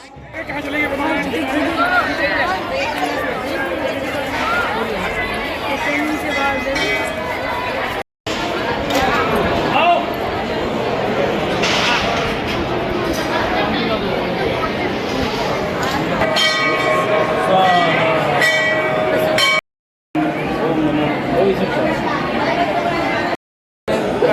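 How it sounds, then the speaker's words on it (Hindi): Dense crowd chatter outside a busy festival pandal in Agra, a loud continuous hubbub of many voices with a bell ringing at times, briefly cut by short silent gaps. "बैकग्राउंड में इतना सारा आवाज़ आ रहा है ना, उससे ही आप वहाँ की भीड़ का अंदाज़ा लगा सकते हैं"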